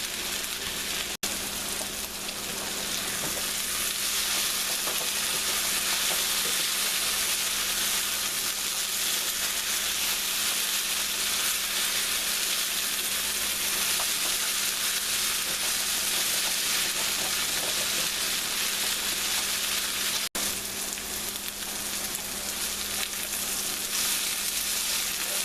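Sliced okra and green tomatoes fry in a pan with a steady, dense sizzle that crackles evenly and continuously up close, with no talking.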